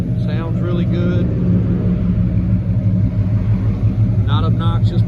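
A 1984 Chevrolet Silverado square-body 4x4 pickup with a new exhaust idles outdoors on a freezing morning, giving a deep, steady, close-up rumble, with someone talking over it at the start and again near the end.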